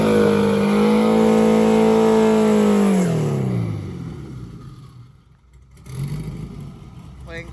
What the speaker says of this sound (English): I love that turbo